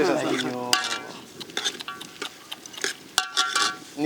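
Country chicken curry frying with onions, cloves and spices in a village kitchen, a steady sizzle with scraping stir strokes and a few sharp utensil clacks against the pan throughout.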